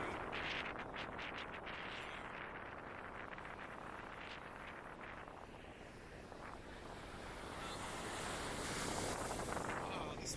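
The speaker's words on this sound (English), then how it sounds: "Wow, these waves are there." Ocean surf breaking on a beach, a steady broadband wash of waves rolling in, loud and continuous, swelling slightly toward the end with wind buffeting the microphone.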